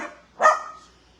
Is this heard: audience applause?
no